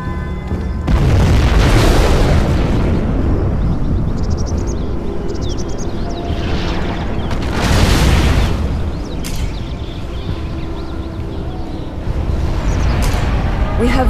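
A nuclear missile strike in a war video game bursts out as long, heavy booming explosions, with a couple of loud rumbling waves swelling and fading over a constant dense roar.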